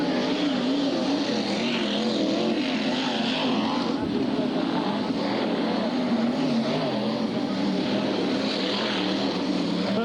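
Race cars lapping the Bradford track in 1994, a steady dense engine roar from several cars that stays loud the whole time, with a race commentator talking over it.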